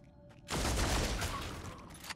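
A burst of gunfire from the video game Deathwatch erupts suddenly and holds as a dense, loud barrage for over a second before easing off, with no voices.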